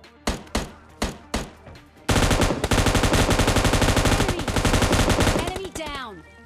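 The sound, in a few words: M249 machine gun firing in the video game PUBG Lite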